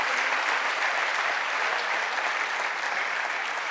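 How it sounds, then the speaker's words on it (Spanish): A church congregation claps loudly and continuously for the Lord during a worship service, a dense, even wash of applause throughout. "Den un fuerte aplauso al Señor."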